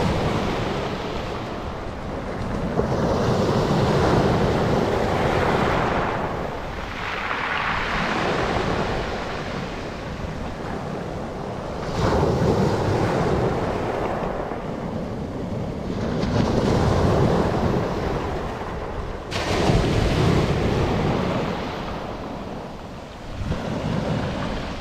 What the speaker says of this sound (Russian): Минутку послушайте море